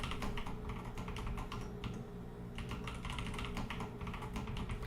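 Rapid, uneven keystrokes rattle on a computer keyboard as a password is typed, a close, steady run of plastic clicks with brief pauses and no voices.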